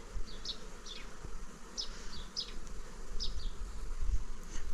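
Bees buzz around a hive outdoors in a steady, close hum, with a few short higher chirps over it.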